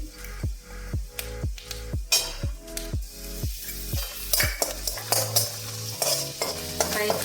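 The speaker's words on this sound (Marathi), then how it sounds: "दोन मिनिट आपण छान परतून घेऊन मिरची इथं तुम्ही पाहू शकता मिरची छान गोल्डन ब्राऊन झालेली आहे" Green chilies sauté in a pan until golden brown, a regular series of spatula scrapes and knocks over a soft sizzle, followed by a brief busier stretch of stirring.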